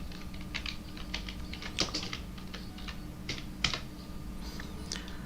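Someone typing a search on a computer keyboard, brisk irregular key clicks at close range with a few sharper presses, no voices.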